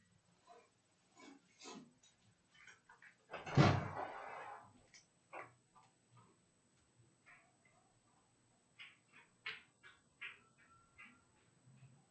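A door opening indoors as someone arrives home, heard as one fuller rustling burst mid-clip amid scattered small knocks and taps in an otherwise quiet room.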